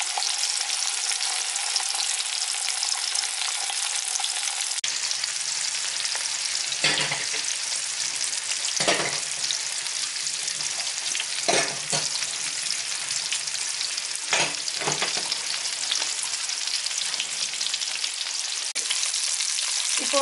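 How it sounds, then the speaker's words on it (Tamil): Sankara fish pieces sizzle steadily in an iron pan over low heat, a dense continuous frying hiss with a few brief louder crackles and shifts as pieces are placed, no voices. "இப்போது இதில் நான் வந்து மீனை வச்சுக்கிறேன். மீனை வச்ச கையோட சிம்மில் வச்சுடுங்க."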